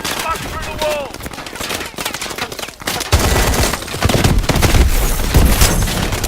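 Heavy mech main gun firing in Call of Duty: Advanced Warfare, loud rapid bursts of gunfire with booming low impacts and clattering, growing denser and heavier in the second half.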